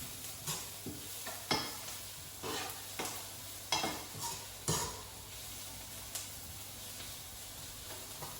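Ingredients brown in a pan for Maltese fish soup: a faint, steady sizzle with repeated scrapes and taps of a utensil stirring against the pan at an uneven rhythm.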